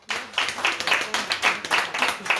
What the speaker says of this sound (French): Donc on peut encore l'applaudir.